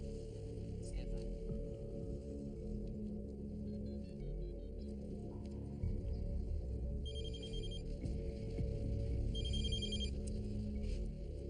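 Telephone ringing on the line during a recorded call in a tense TV drama scene, repeated high electronic ring bursts at a steady moderate level over a low background hum.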